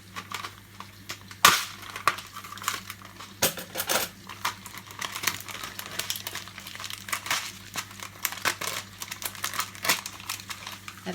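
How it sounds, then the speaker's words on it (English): A plastic wrapper on a self-cooking noodle bowl is crinkled and handled close up, irregular crackling and rustling bursts with a few sharp clicks over a low steady hum. "I'm gonna get a scissor because I can't get the plastic off."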